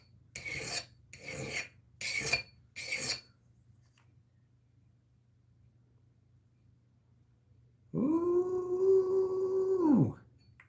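A file rasps over a blade bevel in four even, rhythmic strokes, close and crisp. After a pause, a dog gives a drawn-out howl.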